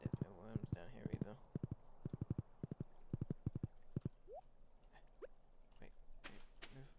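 Horse hooves clip-clopping in the farming game Stardew Valley, crisp hollow clops in quick pairs and rhythmic clusters, close and clear, followed by a few scattered game blips and tones.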